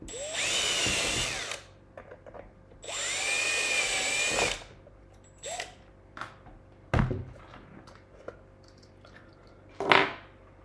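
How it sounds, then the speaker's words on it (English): A power drill whirs loudly in two sustained bursts, then short clicks, taps and brief trigger pulls follow, ending with one last sharp burst. "That's pretty much all the drilling done"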